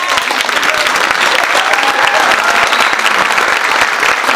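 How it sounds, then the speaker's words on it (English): A large audience at the JASG annual dinner gala claps loudly and continuously, a dense, even roar of applause close by with no pauses, a faint voice briefly under it. "I want to first give you a big round of applause"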